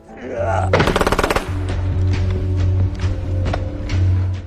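Gunfire from a war film: a loud rapid burst of automatic shots rattles out near the start, followed by scattered sharper cracks over a low rumbling background.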